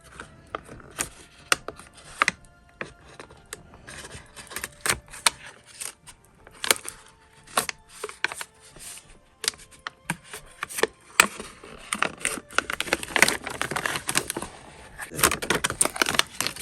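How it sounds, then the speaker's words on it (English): Dress cutter shears slicing around the plastic lid of a baby wipe package, a run of sharp irregular snips and crinkly plastic clicks, close and fairly quiet, with no speech. "I use the dress cutter to cut this around."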